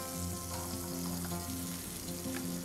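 Chopped onion sizzling in a spoonful or two of butter or margarine in a pan, a steady, close frying hiss with faint stirring clicks throughout and no talking.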